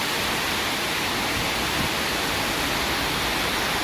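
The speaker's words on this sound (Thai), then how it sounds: "ทั้งฝนทั้งลม เห็นไหมครับ ฝนที่กระแทกลงมาเป็นละออง ปลิวไปตาม สายลมที่ พัดอย่างรุนแรง" A wall of wind-blown rain pours down during a violent storm in Pranburi, Prachuap Khiri Khan, heard as a constant broad roar at steady loudness, with no one talking.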